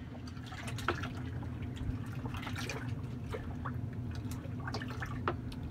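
Yeast being stirred into beer wort for a Coopers IPA brewed with Cryo Hops, with soft liquid swirling and dripping sounds throughout over a steady low hum.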